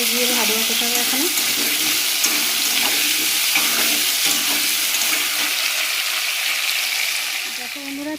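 Pointed gourd curry cooking in a pan after the gourd pieces were fried, giving a steady, loud broadband sizzle throughout, with a few brief tonal scrapes of stirring and faint background voices.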